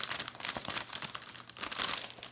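A thin, glossy 12 by 12 sheet of specialty paper slides out of its package with quick, close crinkling and rustling bursts, soft and brief.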